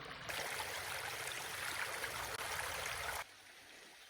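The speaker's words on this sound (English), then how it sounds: "Oh, that's a nice little waterfall" A small waterfall on an Ozarks hiking trail, a dense rushing hiss of flowing water, close and steady for about three seconds before cutting to a quieter background.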